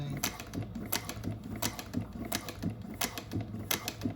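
Juki 1541s industrial sewing machine sewing a short back stitch, a close, rapid series of regular mechanical clacks at an even rhythm throughout, with faint talk underneath.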